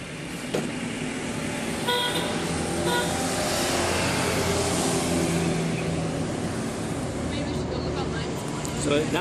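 Busy Manila street traffic with jeepney and car engines and a few short horn toots, steady and fairly loud, with voices talking underneath.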